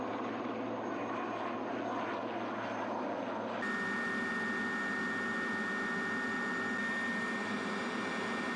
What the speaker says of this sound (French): les Pumas se rendent sur la zone de récupération en empruntant un cheminement tactique